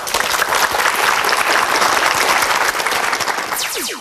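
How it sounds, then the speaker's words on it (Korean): A lecture audience applauds to welcome a professor to the stage, a dense, loud, sustained wash of clapping that holds steady for the whole stretch without speech. "정지훈 교수님의 특강 힘찬 박수로 청해 듣겠습니다."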